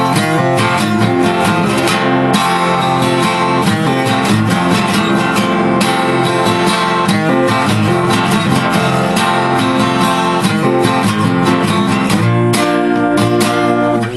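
Acoustic guitar strummed and picked through the four-bar intro, loud and close with a steady driving rhythm and continuous ringing chords.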